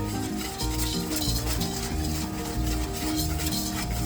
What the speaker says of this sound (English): we're going to mix well so everything is incorporated